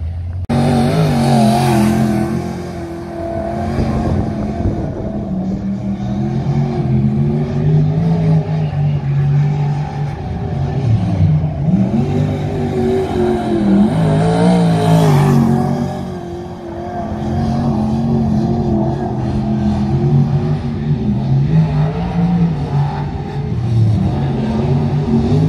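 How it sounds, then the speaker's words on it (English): A sprint car laps Nelson Speedway during a practice session, its loud engine droning steadily and swelling as it accelerates and passes, with repeated rises and falls in pitch over about twenty-five seconds and no talking. "She's having her final run in her sprint car and she is fast"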